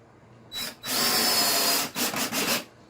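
A power drill whirs in short bursts: a brief spin, a longer steady run, then several quick stop-start revs, loud and close.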